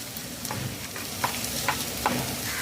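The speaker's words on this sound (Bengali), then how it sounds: "লো টু মিডিয়াম ফ্লেমে পেঁয়াজ বাটা দিয়ে দু মিনিট কষিয়ে নিয়েছি" Onion paste cooking down in a pan over a low-to-medium flame, a steady soft sizzle with a few light scraping stirs scattered through, close and fairly quiet.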